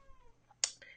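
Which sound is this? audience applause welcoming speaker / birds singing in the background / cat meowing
cat meowing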